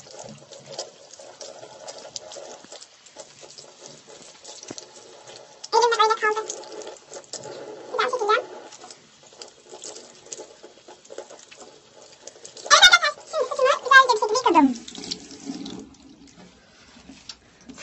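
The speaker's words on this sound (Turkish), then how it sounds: "Evet, şu anda saçımı yıkıyorum." Running tap water while hair is being washed, a faint steady trickle broken by several louder bursts of splashing and pouring, close by, with no talking.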